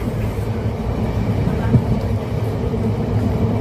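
Passenger train ride on an early morning trip, with a continuous low rumble and rattle of the carriage throughout and faint background sounds.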